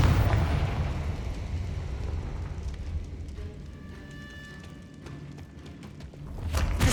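A Confringo blasting spell explodes in Hogwarts Legacy, a heavy rumbling boom that swells at the start, fades into a low sustained roar, then surges again at the end.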